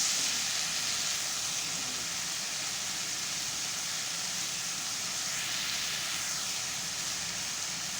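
Onions with chilli frying in a pan for potol chhola, a steady even sizzling hiss that stays at the same level throughout, with no voices.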